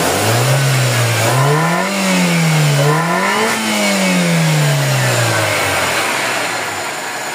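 A car engine that runs but lacks power, with worn valve seals, idles and revs repeatedly while warming up, rising and falling in pitch several times before settling, loud and close.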